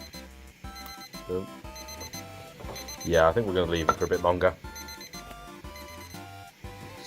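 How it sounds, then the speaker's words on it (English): An alarm clock beeps in steady repeated tones throughout, while a person talks over it in the middle. "Stupid beeping."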